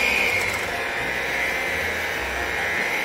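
Electric mixer beating Italian cheesecake batter (pizza dolce), a steady close whirring drone that holds unchanged throughout without pause.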